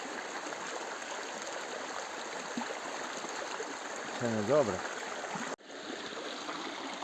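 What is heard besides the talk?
flowing mountain stream water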